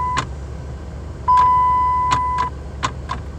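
Brake shift interlock actuator in a Dodge Caliber stuck in park, clicking in a garage: several short sharp clicks spaced irregularly, close and clear, with a steady electronic tone underneath and no talking.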